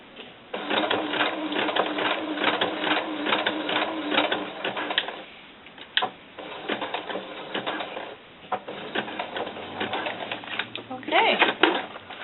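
A sewing machine stitches a doll camisole using a thicker needle, running in fast rattling bursts with short pauses between runs, close and fairly loud.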